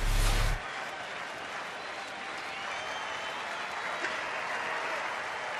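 A big crowd at a Florida Marlins at Texas Rangers baseball game breaks into a short, loud burst of applause. The clapping quickly fades into a steady, distant hum of crowd noise that lasts to the end.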